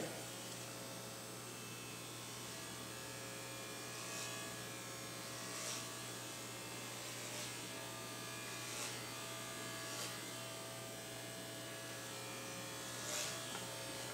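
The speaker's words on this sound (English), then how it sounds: "when you're doing a clipper cut, you want to make sure that when you get around the occipital bone that you angle your clippers up" Electric hair clippers with a guard run in a steady, quiet buzz during a men's clipper cut, a constant hum with faint periodic bumps as the blade passes through hair, no talking.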